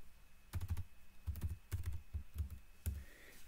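Someone types on a computer keyboard, with short bursts of soft, close keystrokes and pauses between groups, in an otherwise quiet room.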